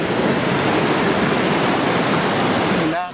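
Rushing whitewater of a big standing wave on the high-water Lobstick River, a loud, steady broadband roar close by that dips briefly at the very end.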